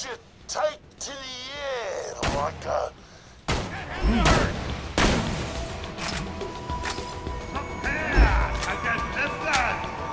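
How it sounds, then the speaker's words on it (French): Gunfire in the video game Borderlands: The Pre-Sequel, with sharp loud bursts and crashes in quick clusters over a busy mix of game sounds and effects. "je vais utiliser ma mitraillette au corps à corps"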